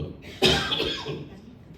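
A single sharp cough bursts out near the mic from someone speaking at a Saiva Siddhanta gathering, followed by a brief trailing rasp and quiet room noise.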